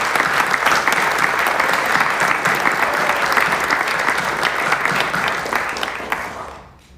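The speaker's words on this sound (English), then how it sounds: "if everyone would join me in one final round of applause for all of our" A large audience applauds at a nurses pinning ceremony, dense steady clapping that stays loud for several seconds before fading out quickly at the end.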